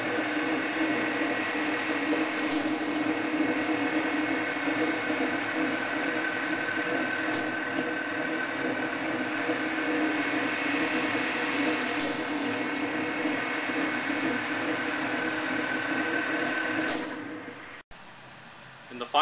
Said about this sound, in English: the saw goes to the polishing station, where the steel body is polished with the use of flood coolant